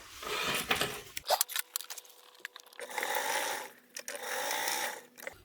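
A sewing machine stitches a seam on a large foldable tote bag, with bursts of steady whirring separated by pauses filled with clicks and fabric handling, close by and with no voices.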